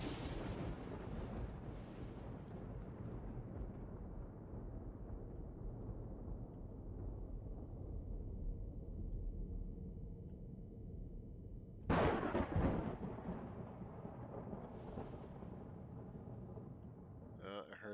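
In the Empyrion Galactic Survival video game, weapons fire with a heavy booming blast that rumbles and fades slowly, followed about ten seconds later by a second sharp, louder burst of shots, with faint game ambience between.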